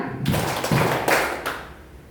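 A group of orphanage children play a call-and-response clapping game, landing a few crisp, loud claps in an uneven rhythm close by, then the sound fades into a quiet room.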